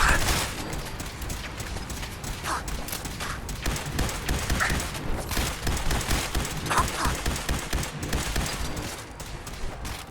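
Gunfire in the video game Fallout 4 rattles on in dense, almost unbroken bursts for the whole stretch, loud and chaotic, with sharp impacts piling on top of each other.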